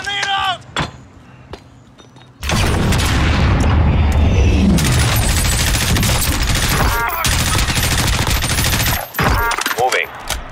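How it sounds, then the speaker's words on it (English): A grenade explosion and heavy gunfire from a Call of Duty Modern Warfare Warzone match: a brief voice, then a sudden loud boom that runs into sustained bursts of automatic fire, with dense crackling shots continuing to the end. "Grenade out!"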